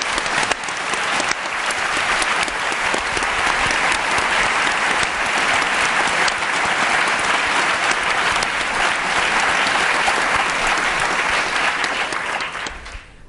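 Sustained, dense applause from a large audience at a panel discussion on rule of law with Aung San Suu Kyi, steady and loud for about twelve seconds before tapering off at the end.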